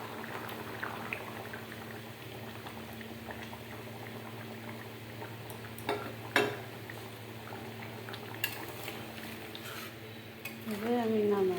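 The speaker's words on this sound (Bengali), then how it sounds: "তরকারি ফুটছে, চিংড়ি মাছের ভুনা।" Prawn bhuna curry simmers in a home kitchen pot, a soft, steady bubbling with faint pops and a low hum underneath, broken by a few louder clinks and a rising stir or scrape near the end.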